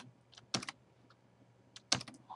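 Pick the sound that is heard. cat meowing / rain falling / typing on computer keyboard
typing on computer keyboard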